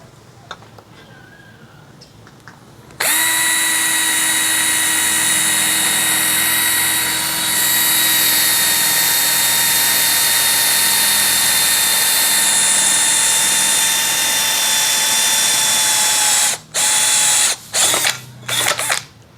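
A DCA ADJZ2035i cordless impact drill bores into iron with a loud, steady high-pitched whine that runs for about fourteen seconds, then cuts out in a few short stuttering bursts.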